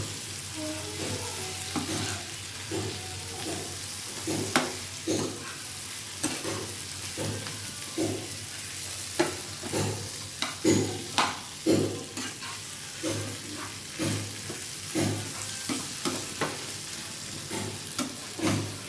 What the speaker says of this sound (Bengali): ভেজে রাখা চিংড়ি মাছগুলো এবার আমি দিয়ে সবগুলো ভালো করে কষিয়ে নেব।